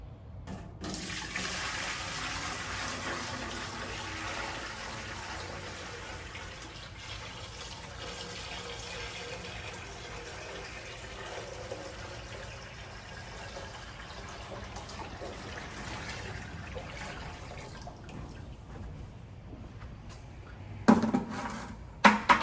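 Water pouring steadily into an empty coolant tank for a mill stand, five gallons going in with a continuous rushing, gurgling fill that holds for about twenty seconds before a few clunks near the end.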